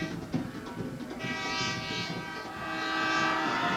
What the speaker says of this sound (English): There is the truck air horn.